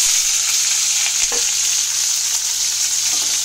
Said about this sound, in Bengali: এবার এটা একটু সটে করে নেব